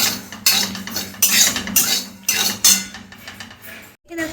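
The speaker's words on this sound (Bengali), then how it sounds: "আমি দাঁড়ো ডালিয়াটা একটু নেড়ে দিই" A metal spoon scrapes and knocks around a pot of broken wheat (dalia) as it is stirred, giving sharp, uneven clinks and scrapes at irregular intervals, close by and with no voices.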